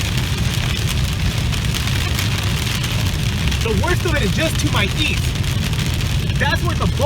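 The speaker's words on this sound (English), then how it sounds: "Pea-sized hail, from what I can see," Pea-sized hail keeps pelting a moving car during a Central California storm, a loud, unbroken rattle over low road and engine rumble, with short bursts of voice in the second half.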